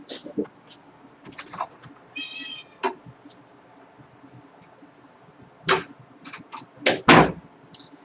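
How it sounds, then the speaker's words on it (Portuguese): A house cat meows repeatedly just outside a door, giving several short cries spread across the clip, some loud and close, with faint tapping and knocking sounds in between. "Se vocês escutarem um gato miando aí"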